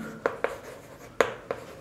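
Pen or pencil strokes on paper during a maths lesson, four short scratchy taps spaced irregularly, close and fairly quiet with no talking.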